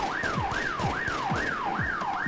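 Wailing police car siren in The Getaway video game, rising and falling in a steady rapid cycle, loud and close over rumbling engine noise, no talking.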